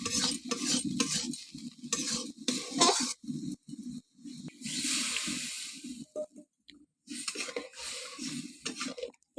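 Masala sizzles in a pan after water is poured in, with repeated scraping stirs and bursts of hiss that come and go in uneven clusters, close and moderately loud.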